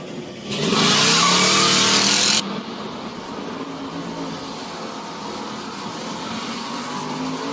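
A 5.3-powered Chevrolet S10 truck at the Bristol burnout competition roars loudly with a harsh, broadband burst of revving for about two seconds, then drops to a steady rumbling idle that carries on with no one talking.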